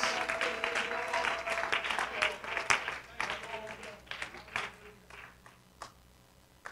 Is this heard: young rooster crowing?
no